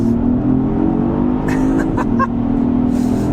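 An engine drones steadily as a 2025 Genesis GV80 3.5T coupe accelerates onto a highway, the pitch rising then dipping with a gear change, heard from inside the cabin.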